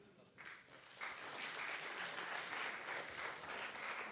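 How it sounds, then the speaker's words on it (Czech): An audience at a live awards event in Pardubice applauds: dense, loud clapping that swells after a brief start and holds steady, with a faint voice underneath. "Ještě jednou tleskáme."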